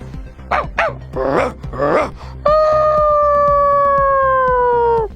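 A human voice imitates a small dog, giving a few short yaps and whimpers followed by a long, high, wavering whine.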